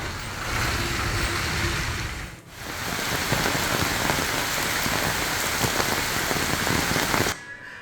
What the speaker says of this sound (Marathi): उत्तर रायगडमधील खोकोली पेण डोहा परिसरामध्ये जोरदार पाऊस कोसळतोय